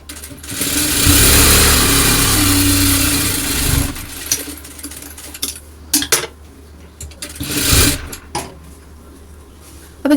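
A sewing machine double-stitching scrap fabric pieces together, its motor whirring in one long run, then in short bursts mixed with light clicks and handling noises.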